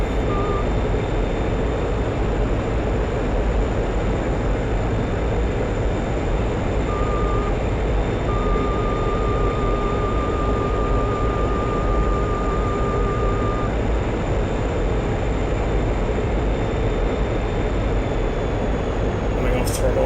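A MiG jet roars steadily with its afterburner lit in a flight video game, a continuous loud drone with a faint warning tone beeping intermittently and voices talking over the cockpit.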